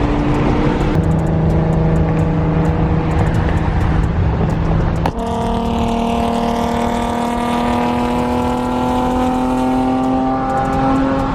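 A loud Nissan GT-R R35 engine idles and revs nearby at a car meet, its deep rumble shifting abruptly midway to a higher, steady drone.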